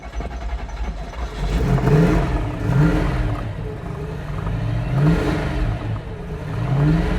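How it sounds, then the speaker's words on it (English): Carbureted engine of a 1993 Ford pickup running and revving in hot weather, a steady mid-pitched rumble that swells into repeated throttle blips, loud and close with no talk. "Let's fire this thing up and get cruising."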